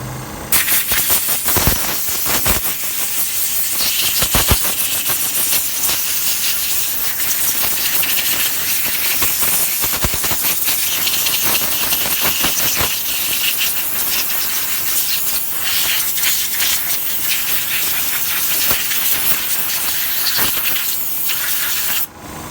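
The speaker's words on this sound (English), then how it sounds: "I'm gonna start sandblasting this with this little gun" A small sandblast gun blasting an AR lower receiver, a loud, continuous hiss of air and abrasive media that runs steadily for over twenty seconds with brief surges and no talking.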